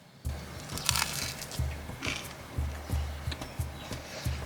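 Close crunchy bites and chewing of toasted rye bread spread with peanut butter, honey and sesame seeds, a series of dry crackling crunches repeating at a steady pace.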